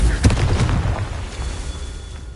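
Confringo fire spell exploding in Hogwarts Legacy: a loud booming burst up front that rumbles and fades over a couple of seconds.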